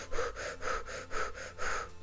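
Rhythmic, deliberate breathing during labour in a Playmobil film, about four close, audible inhale-exhale cycles in steady succession, with no talking.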